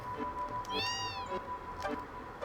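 A cat meows in the video game Final Fantasy VII, one clear rising-and-falling meow in the middle with a fainter mewing call near the end, heard over a quiet game background.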